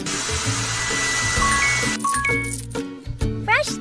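A whirring blow dryer drones loudly for a couple of seconds before cutting out, mixed with chiming game-like jingles and tones.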